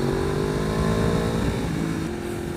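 A 2015 Yamaha R1 sport bike engine holds a loud, steady high-revving drone with dense harmonics, pitch easing slightly before a small shift near the end, close and alone.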